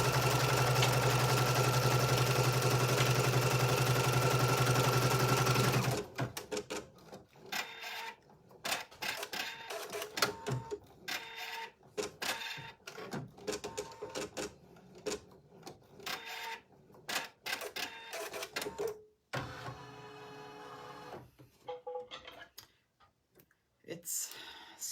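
A Husqvarna Designer Epic 2 embroidery machine stitching an in-the-hoop oven mitt runs as a dense, even mechanical whir with a fine tick at first, then gives way to scattered clicks, taps and handling noises as someone speaks intermittently.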